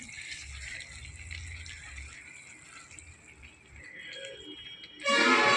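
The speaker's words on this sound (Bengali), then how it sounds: "এবার দিয়ে দিচ্ছে পরিমাণ মতো জল" Water poured into a pot of radish greens curry (mulo shak ghonto) in a village kitchen: a soft, steady trickle that swells into a loud, rushing gush near the end, with no one talking.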